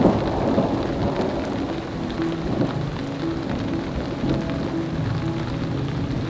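Steady rain falls during a thunderstorm in the Colorado San Juan mountains, with low thunder rumbling through the downpour; a continuous, fairly loud wash of rain with deeper rolls of thunder underneath and no voices.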